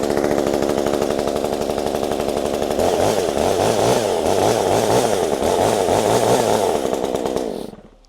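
Chainsaw cold-starting on the second choke position, firing and running loud and close with a steady buzzing idle that turns to a rougher, pulsing throb, then cutting off abruptly at the end.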